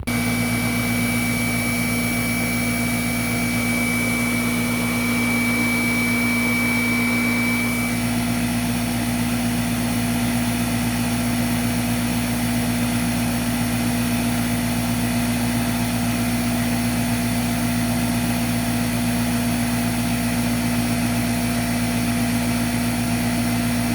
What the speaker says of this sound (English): We'll start with the high pile carpet,